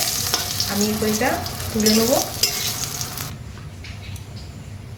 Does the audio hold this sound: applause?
no